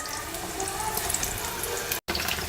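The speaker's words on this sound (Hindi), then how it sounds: "एक एक करके हम गोभी को तेल के अंदर डालेंगे और क्रिस्प होने तक हम इसे फ्राई करेंगे।" Cauliflower pakoras fry in hot oil with a dense, steady, close sizzle and fine crackling that fills the whole stretch, broken only by a very short cut of silence.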